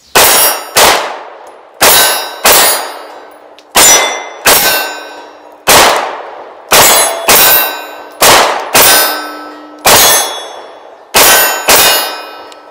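Rounds from a PSA Micro Dagger pistol strike steel targets, producing about fourteen sharp metallic clangs. Each rings out and decays in an uneven, rapid rhythm with no talk.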